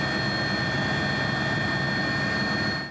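Steady roar of a police helicopter flying overhead while monitoring road traffic, a constant loud engine and rotor drone with no breaks and no voices.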